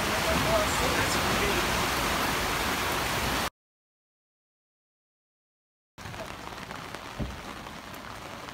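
Rain falling on a sailboat at anchor off the west end of Tortola makes a dense, steady patter and hiss, broken by a few seconds of complete silence before the softer downpour resumes.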